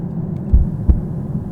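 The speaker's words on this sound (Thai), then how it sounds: "เสียงอะไร เสียงหัวใจเต้นเฉยๆ หรือเปล่านะ" Two low, muffled thumps of a heartbeat in the horror game Laundry Killer, close and heavy over a steady dark hum, spaced about a third of a second apart with no voices.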